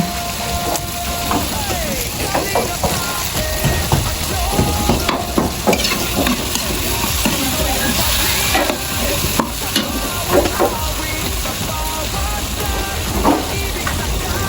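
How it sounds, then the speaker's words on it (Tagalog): A Filipino home-cooked dish sautéing in a pan gives a steady, close sizzle and fry with stirring scrapes throughout, with a voice talking over it at times. "Ayan na ang ulam, nagigisa na."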